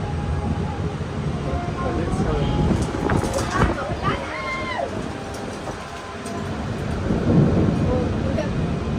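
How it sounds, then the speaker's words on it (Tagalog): Deep rumbling thunder rolls through heavy rain and gusting wind during a storm in the rural Philippines, with scattered crackles over a steady wash of storm noise. "Hear that? Thunder."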